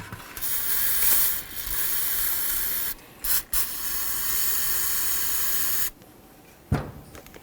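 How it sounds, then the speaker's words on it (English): Bursts of loud aerosol parts cleaner spray hiss in long blasts into a Nissan Pathfinder rear brake caliper port, broken by short pauses and a brief click or two, with quiet between sprays. "We're going to use some parts cleaner, spray right inside this port"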